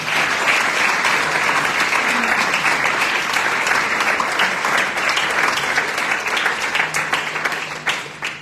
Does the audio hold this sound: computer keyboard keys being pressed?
no